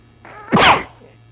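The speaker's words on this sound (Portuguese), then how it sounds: "Ai, caramba, espirrei." A single sharp human sneeze bursts out loud and close after a brief intake of breath, then fades into room quiet.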